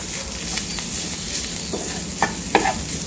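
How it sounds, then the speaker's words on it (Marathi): Vegetable momo filling sautés in a pan with a soft steady sizzle and a few sharp clinks from the stirring spoon. "आणि याला छान परतून घ्यायचं आहे."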